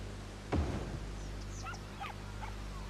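A dog at a dog park in Cities: Skylines video game gives one short distant bark, followed by faint yips and whimpers over a steady low background hum.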